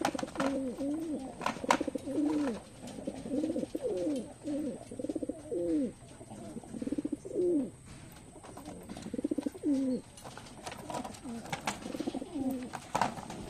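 Racing pigeons back from road training in Navotas coo in repeated soft, throaty phrases, several in a row with short pauses, fairly close with a faint background hum.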